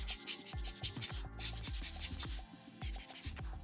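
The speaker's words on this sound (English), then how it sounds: "it's always good just to blow out any dust that's around" A handheld rubber air blower puffs dust out of a Casio GA-2100 watch during a metal case mod. Quick, rhythmic puffs of air come close up, each paired with a squeaky, rubbery squeeze.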